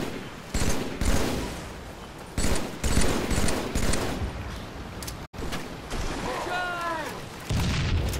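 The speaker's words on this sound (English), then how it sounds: "Ray just dropped the bombs on us." Halo 3 bombs exploding in repeated heavy bursts of blasts and gunfire, loud and close, with short gaps between the volleys.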